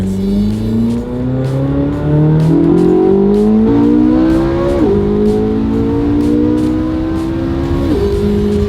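A Chevrolet Corvette C8 engine revs hard at partial high throttle, loud and close, its pitch climbing in repeated sweeps with short dips between pulls, running continuously without talk.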